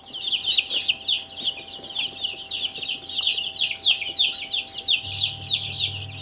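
Barred Rock chickens cluck in a steady, close run of repeated calls, with a low hum underneath that gets louder toward the end.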